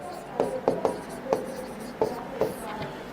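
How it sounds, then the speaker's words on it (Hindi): Chalk or a marker writes a chemical name on a board during an organic chemistry lesson, a series of short tapping and scratching strokes at an irregular rhythm, close and moderately loud, with a quiet voice in the background. "नाम लिख दिया।"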